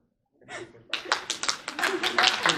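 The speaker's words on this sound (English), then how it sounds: "that deserves a round of applause" Audience applause for people who travelled close to 30 hours to attend, rising after a brief murmur into steady, close clapping that continues to the end, with voices mixed in.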